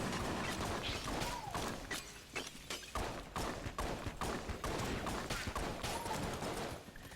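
The Kiln pottery gun in Enter the Gungeon firing in a rapid, sustained volley of crunchy shots and shattering impacts, loud and close, with mechanical clicks mixed through the steady barrage.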